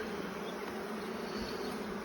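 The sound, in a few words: honey bees buzzing during hive inspection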